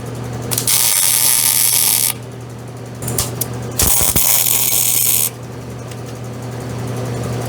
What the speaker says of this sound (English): All right, let's spot weld them.